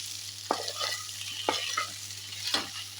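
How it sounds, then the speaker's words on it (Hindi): Phara dumplings are stirred and roasted in a pan over low heat, a soft steady sizzle broken by three distinct spoon scrapes about a second apart. "इनको इसमें डाल देंगे और इसको अच्छे से धीमी आंच पे हम मिलाते हुए भून लेंगे"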